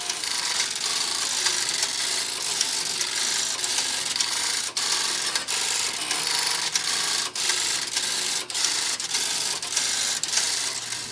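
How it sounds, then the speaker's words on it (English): Dense, continuous mechanical clattering and rasping of many Stromberg-Carlson XY telephone exchange line finder switches working at once during a routine test, busy and loud with occasional sharper clicks. "I had the line finder routine test enabled, and you can tell how much noise it made."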